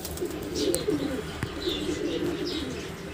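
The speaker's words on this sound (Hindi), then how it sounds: "देखिए आप ये कबूतर पकड़ा मैंने हरा गुलदार, एकदम गोल मुंडी का कबूतर है" A green speckled, round-headed pigeon coos in low, soft murmurs with a few faint chirps above, close by and steady for a few seconds.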